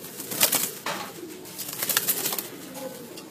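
Racing pigeons, flying birds from Sialkot, cooing nearby in soft repeated bursts with a little rustling, a female bird among them; no talking.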